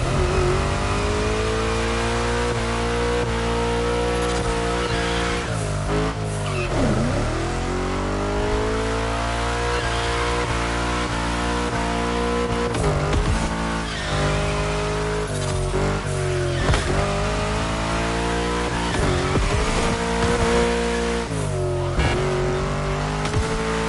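A car in The Crew Motorfest racing game powers through a gymkhana course, its engine roaring loud and continuous. Revs surge and dip repeatedly as the throttle is released and reapplied through turns, with brief tire squeal.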